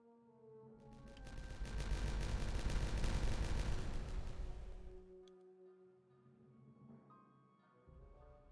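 Explosives detonate in Timberborn as a loud, dense roar of overlapping blasts that swells for several seconds, then decays into a lower rumble and fades.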